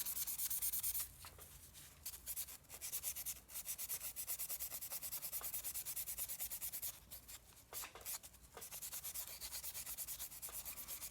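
Metal is scrubbed with a pad to lift rust using Boeshield Rust Free, a close, steady back-and-forth rasping rub with brief pauses between strokes. No one speaks.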